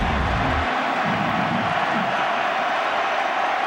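A college football stadium crowd at a 2004 ACC game roars in a broad, steady wash of noise, loud and continuous with a brief low rumble at the start.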